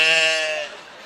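A preacher at a Maulid Nabi sermon in Sukabumi imitates a female goat bleating with his voice: one loud, wavering nasal bleat that fades out after about half a second.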